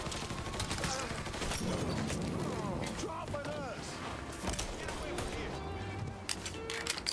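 Gunfire in a Mafia video game crackles in rapid bursts amid dense game sound and music, with several short volleys spread across the clip.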